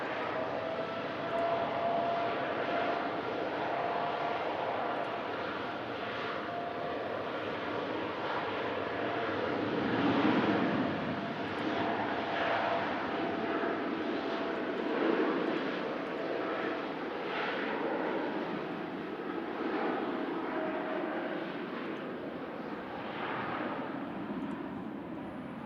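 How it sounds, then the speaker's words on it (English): A Qatar Airways Boeing 787 begins its takeoff roll, a moderately loud, continuous jet engine rumble and roar from a distance that builds gently and stays steady, without speech. "Qatar Airways 787 heading back to Doha. Now initiating our takeoff roll."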